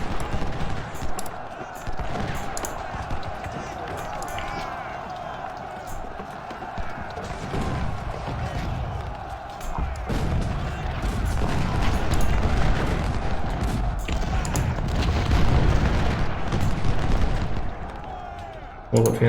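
Musket volleys and cannon fire in the Ultimate General: Civil War video game, a dense, continuous battle din of cracking shots and heavy booms that swells and recedes over about twenty seconds.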